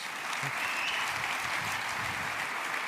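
Audience applause at a Siemens keynote at CES, a steady wash of clapping from a large hall, even and sustained without breaks.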